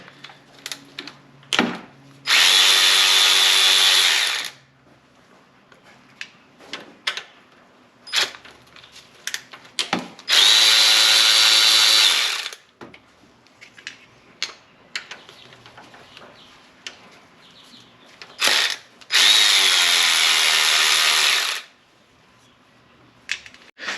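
A power tool, likely a cordless ratchet or driver, runs off three nuts from the VANOS unit on a BMW M52/M54 six-cylinder engine. Three close, loud whirring bursts of about two to three seconds each, with scattered clicks and clatter between them.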